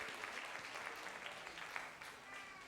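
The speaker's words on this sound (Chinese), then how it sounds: "好，我们再一次拍手，恭喜他们。" A church congregation at Youchang Presbyterian Church applauds together, a dense, steady wash of clapping that holds at an even level throughout without pause.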